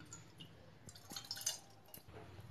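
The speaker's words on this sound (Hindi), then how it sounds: "अब एक दूसरे पैन में लेंगे पानी" Water is poured into a second cooking pan on a home stove for jaggery tea, giving a soft, close trickle and splash with faint drips.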